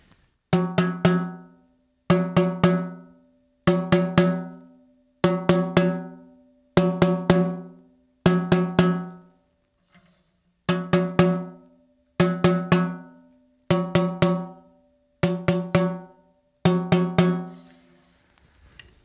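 A high-pitched tuned drum struck in quick pairs and short clusters, about a dozen groups evenly spaced, each ringing briefly and bright, with no talking.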